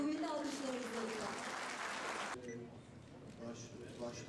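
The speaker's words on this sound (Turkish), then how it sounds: "Kuvvetli alkışlarınızla lütfen." A crowd at a Maltepespor club gala applauds club president Cahit Turhan as he is called to the podium: dense, loud clapping for about two seconds, then a sudden drop to softer scattered sound with a voice and tones underneath.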